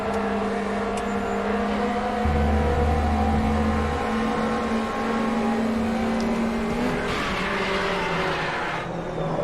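Race cars lap the Brands Hatch Indy circuit in the RaceRoom sim against AI opponents, a steady engine drone shifting pitch through gears, with a brief deep burst and faint tire scrub, no talk.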